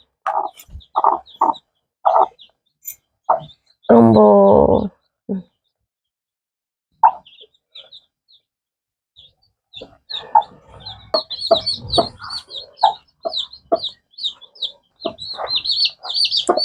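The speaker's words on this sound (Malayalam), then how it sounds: "ഇത് നമ്മളെ ഇവിടെയുള്ള കോഴിക്കുഞ്ഞുങ്ങളാട്ടോ" Newly hatched chicks cheep and chickens cluck on a small poultry farm, short loud calls in scattered bursts with quiet gaps, then a busier run of peeping, alongside a person speaking.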